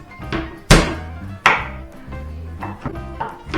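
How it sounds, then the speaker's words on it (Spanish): Knife chopping garlic and onion on a cutting board, a few sharp close knocks with two strong strikes and lighter taps between, irregular rhythm, no talk. "vamos a picar el ajo y la cebolla ahora"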